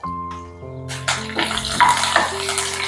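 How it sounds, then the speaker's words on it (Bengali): Mustard seeds, a dried red chili, soaked chana dal and fresh curry leaves hit hot oil on a low flame. After a brief tonal hum, a sudden close sizzle and crackle rises and keeps hissing. "ফ্লেমটাকে একদম লোতে করে ফোড়নটাকে আমি ভেজে দিচ্ছি 10 থেকে 15 সেকেন্ড"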